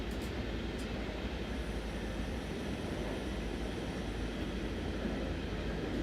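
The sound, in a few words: train running in video game Train Sim World 6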